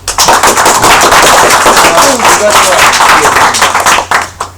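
Audience applause at the close of a Korean open-source software presentation in a conference hall, a loud dense burst of clapping that fills the room for about four seconds and then tapers off.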